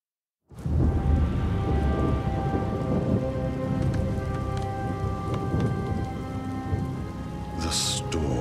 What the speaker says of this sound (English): The storm is receding.